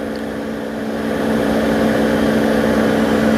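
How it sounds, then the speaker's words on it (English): A Rover 75 (MG Rover) sits parked and switched off while its engine cools, a steady close whirring fan-like hum with a constant low tone that grows slightly louder and holds without a break. "That's the engine cooling down."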